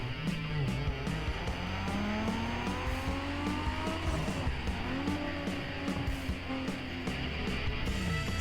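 Engine revving in Need for Speed Underground 2 during a dyno run on a single-turbo tuned car, a loud continuous rising and falling whine with repeated climbing pitch sweeps, steady throughout with no talk.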